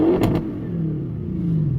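A tuned Audi RS7 exhaust revs, a loud engine note rising then easing into a steady drone, with a brief clatter near the start.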